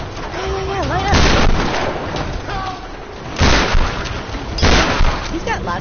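Gunfire in the video game Tomb Raider, a few heavy booming shots spaced over several seconds amid battle noise, with voices speaking between the blasts.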